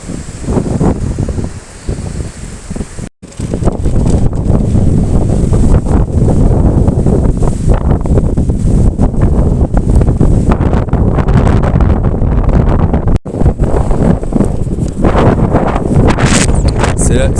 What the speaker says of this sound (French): c'est le vent qui pousse sur la trottinette, parce que j'ai le vent de face